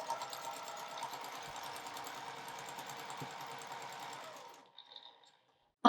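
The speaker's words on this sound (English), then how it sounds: "I'm just going to sew a 1/4 inch seam" A sewing machine stitches a quarter-inch quilt seam through fabric squares, a steady close mechanical whirring hum that runs for several seconds, then stops, followed by a brief click.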